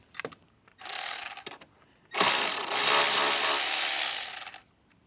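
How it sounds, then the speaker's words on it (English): A ratchet works the last 8mm bolt loose on a 2024-or-newer Jeep Wrangler, a few short clicks followed by two longer bursts of rapid close-up ratcheting. "So this last 8mm bolt needs to come out in order to drop the metal bar down."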